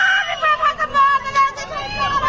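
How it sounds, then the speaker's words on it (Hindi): Panicked crowd shouting and screaming as people flee a cloudburst flood in Uttarkashi, a short burst of raised, overlapping voices close by with rising and falling intensity. "सुनिए सुनिए लोग कैसे यहाँ पर भागो भागो चिल्ला रहे हैं।"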